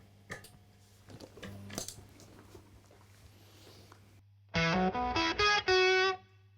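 Electric guitar played through an Octafuse octave fuzz pedal, loud buzzy sustained fuzzed notes in a short burst of several chords after quieter scratchy handling noise and a steady low hum.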